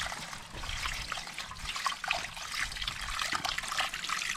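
Water trickles and splashes steadily from a garden hose outdoors in spring, a close, continuous, uneven dribbling with no talk.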